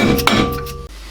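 A hammer strikes metal while a nut is staked down on both sides of a CV axle on an Alfa Romeo 156, giving a single sharp clink near the start among a few lighter metallic knocks before the noise cuts off.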